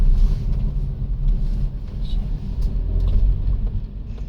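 Continuous car traffic rumbles on a busy road in Bangalore, a dense low engine drone with passing vehicles throughout and no clear talk over it.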